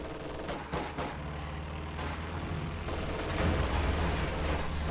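Dense, continuous battlefield gunfire from a real-time strategy game as grenadiers engage conscripts, with overlapping shots and rumbling blasts forming a loud, steady wall of combat noise.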